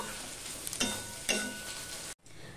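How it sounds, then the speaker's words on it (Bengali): Ginger paste stirred and fried in a pan for a simple chicken dish, a dense close sizzle with two sharp spatula scrapes before it cuts off abruptly and resumes. "আদা পেস্টটা দিয়ে আমি একটুখানি সময় মিশিয়ে নিয়ে রান্না করতে থাকবো"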